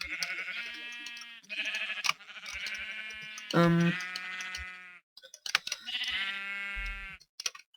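Sheep in a Minecraft-style video game bleat repeatedly in clear, close, evenly spaced calls, with a brief low thump near the end.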